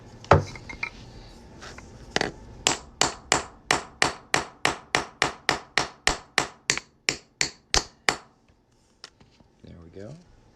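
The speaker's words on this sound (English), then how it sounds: "I'm going to pop the quarter in there and just punch a 1/2-inch hole right in the middle of it" A center punch drives a 1/2-inch hole through the middle of a quarter for coin ring making: about twenty sharp metallic strikes in a fast, steady rhythm, loud and close, with a few scattered knocks before and after.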